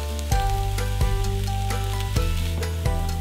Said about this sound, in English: Then you're gonna cook your onion and your celery until soft.